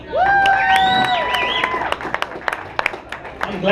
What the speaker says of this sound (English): give a round of applause for all the comedians you saw tonight